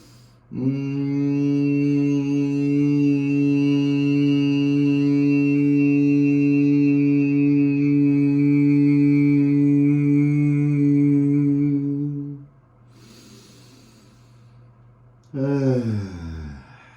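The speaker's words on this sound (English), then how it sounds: "let's clear with a nice strong Brahmari" A strong, steady nasal hum from the humming bee breath of yoga runs unbroken for about twelve seconds, then a quiet breath in and a second hum begins briefly.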